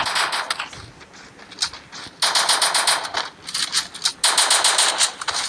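Rapid automatic gunfire in the Free Fire video game comes in dense, crackling bursts, with brief pauses between long volleys, loud and close, and almost no talk.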